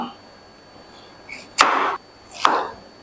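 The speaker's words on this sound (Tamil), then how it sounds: "கேரட்ஸ் நான் கட் பண்ணிக்கிறேன்" A knife chops through carrots and yam on a board, two distinct, close cuts spaced a moment apart against a quiet kitchen background.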